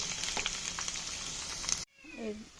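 Garlic frying in hot oil with cumin and mustard seeds, a close steady sizzle with a few stirring scrapes that cuts off abruptly partway through.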